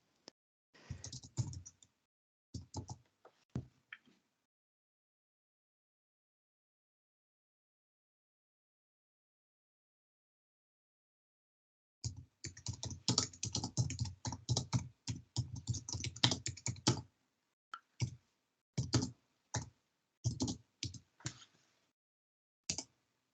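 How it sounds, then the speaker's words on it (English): Bursts of typing on a computer keyboard, quick clustered key taps with a long silent gap between a short opening flurry and a denser later run, close and clear with no talk. "I was just typing."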